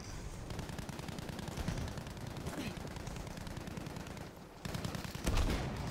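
Rapid automatic gunfire and scattered shots crackle through a World War II battle in the shooter game Battlefield V, dense and continuous with a louder burst near the end, and no clear talk over it.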